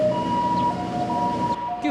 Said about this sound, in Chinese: 救护车警报声伫四周安静的气氛内底是正大声